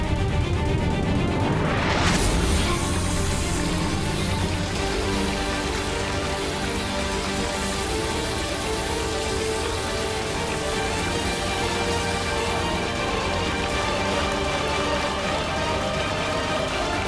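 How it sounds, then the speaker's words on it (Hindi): Steady rain pours down in a dense, even wash after a sudden loud onset, keeping up throughout with no voices over it. "इंद्र देवता ने बारिश की"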